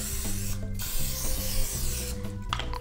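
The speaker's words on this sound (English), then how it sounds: "And then we're going to spray a little bit of Pam on top." Pam cooking spray hisses onto paprika-seasoned chicken for a Thanksgiving meal, a loud, close, steady spray with a couple of brief pauses over a low hum.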